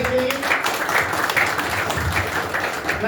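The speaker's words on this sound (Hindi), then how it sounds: "तो एक जोरदार तालियां चाहूंगा इसके लिए।" Loud, dense applause from an audience at a business presentation, a steady wash of many hands clapping that lasts the whole stretch without letting up.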